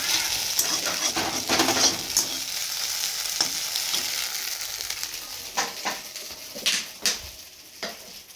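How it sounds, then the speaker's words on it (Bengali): Fried rice frying in a pan, made for a child, with a steady close sizzle and intermittent clatter of stirring, louder toward the end; a faint voice now and then. "তুলতুলের ফ্রাইড রাইসটা আগে বানিয়ে নেব"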